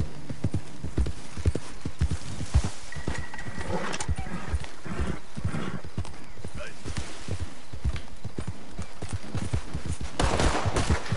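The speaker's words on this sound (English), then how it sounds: "Holy hell, who's shooting at me?" Gunfire in Red Dead Redemption 2 comes in bursts of shots mixed with clip-clopping hooves from a horse ride through woods, with someone talking throughout over the game sounds.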